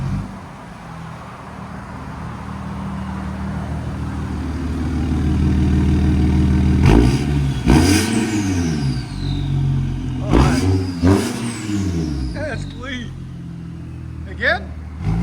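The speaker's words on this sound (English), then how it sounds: "A7 turbo diesel muffler delete and downpipe." A 2017 Audi A7 turbo diesel with muffler delete and downpipe idling with a deep drone, then revved hard in three or four sharp bursts that drop back, loud and close.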